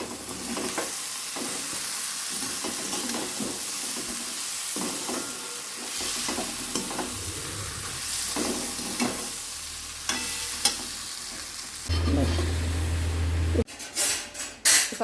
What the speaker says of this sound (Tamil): சிம்மில் வச்சு அப்படியே வதக்கிட்டே இருக்க வேண்டியது தான்.